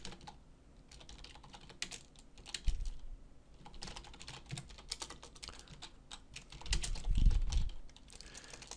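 Code typed on a computer keyboard, a quiet, close, continuous patter of key clicks in uneven bursts with a few heavier thumps.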